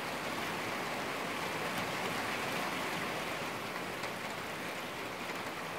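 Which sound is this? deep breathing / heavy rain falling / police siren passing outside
heavy rain falling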